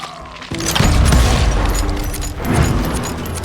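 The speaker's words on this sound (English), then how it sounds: "I heard the shots and I knew I had to move fast." Gunfire in the Western shooter game Call of Juarez: Gunslinger comes as loud, booming volleys, with a heavy burst followed by another a couple of seconds later over rumbling battle noise.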